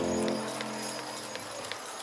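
Several horses in a tandem hitch class clip-clop at a steady trot, hoofbeats close and fairly clear, with a low rumble of wheels and arena noise underneath.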